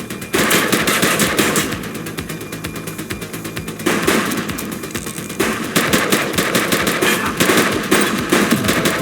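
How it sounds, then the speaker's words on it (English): Sustained automatic gunfire in the police video game The Precinct, loud rapid bursts with brief pauses, dense and continuous throughout with no talk. "He's shooting!"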